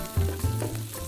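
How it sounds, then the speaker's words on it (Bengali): Chopped garlic frying in hot oil as a tempering for masoor dal with drumsticks, a close, bright sizzle with a few low thumps and stirring noises over a constant hiss. "সাথে একটু আমরা রসুন কুচি, রসুন কুচি দেব।"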